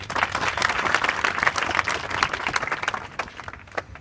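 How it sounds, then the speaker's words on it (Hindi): Indoor audience at a training session breaks into steady applause, many hands clapping together at close range before it thins out near the end. "ताली बजाओ अपने लिए।"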